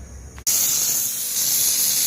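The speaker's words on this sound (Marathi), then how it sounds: "हे कुकरमध्ये आपण डाळ लावलेली आहे डाळ शिजते" A pressure cooker of dal in a dhaba kitchen releases steam. After a brief quiet start, a loud, sharp, continuous hiss cuts in abruptly and holds steady close by until the end.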